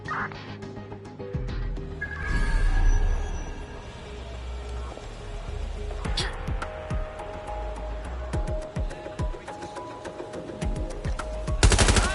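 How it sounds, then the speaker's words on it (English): Rapid bursts of automatic gunfire in the video game Watch Dogs: Legion crackle repeatedly, with a few sharper shots and a final loud volley, set against a steady electronic hum. "I'm hearing gunfire."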